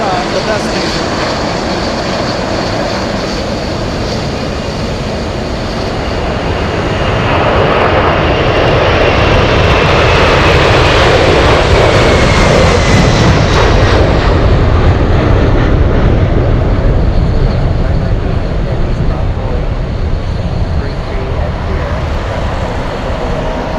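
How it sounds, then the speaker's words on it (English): Atlas Air cargo jet accelerating down the runway on takeoff at Anchorage airport, a loud sustained engine roar that swells and rises in pitch midway, heard from a distance with a voice talking over it. "I just got an Atlas. Oh my goodness, it's racing down the runway."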